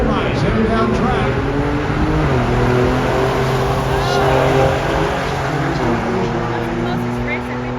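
A drag racing car with a roll bar runs down the track at Irwindale in Los Angeles, its engine a loud, close, sustained roar that shifts pitch as it pulls away, with a voice talking over it.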